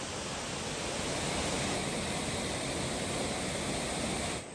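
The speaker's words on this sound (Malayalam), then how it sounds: "ശുദ്ധമായ തണുത്ത ജലം ശബ്ദത്തോടെ പാറകൾക്ക് മുകളിലൂടെ ഒഴുകുന്ന മനോഹര ദൃശ്യം" Waterfall at Kallar Meenmutty pouring clean, cold water over rocks in a forest, a steady dense rushing roar that holds without a break for several seconds, close and full, with no voices.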